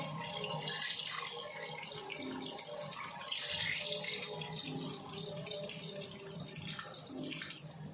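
Water pours steadily from a kitchen tap into a pressure cooker holding washed country chicken with turmeric and salt, a continuous close splashing flow with small shifts in pitch and no talking.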